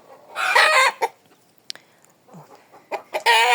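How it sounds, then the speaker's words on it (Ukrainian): Chickens cluck and squawk close by as a young rooster is chased, with loud bursts of agitated calls separated by short quiet gaps and a final flurry of clucking. "Мама ганяє молодого мені півника."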